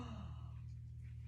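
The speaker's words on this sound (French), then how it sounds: "On inspire bouche ouverte." A slow breath drawn in through a wide-open mouth during a breathing exercise, soft and airy over a low steady hum, lasting about a second.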